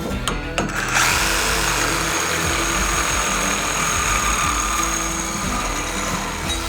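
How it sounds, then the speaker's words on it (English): A reciprocating saw cuts through EMT steel conduit, a steady loud buzzing rasp that starts after a short pause and runs without a break. "I'm gonna use a reciprocating saw to cut these, and I'm gonna cut them at 17 inches."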